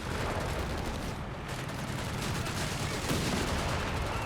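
A zeroing artillery barrage in the Company of Heroes 3 strategy game produces a dense, continuous roar of blasts and gunfire, steady and fairly faint throughout.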